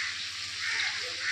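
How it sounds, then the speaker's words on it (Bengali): Potatoes fry in a pan in a home kitchen, a steady hissing sizzle held at an even level with a faint low hum beneath and no talking. "পটলটা ভেজে নিয়েছে, এখন আলুটা ভাজছে"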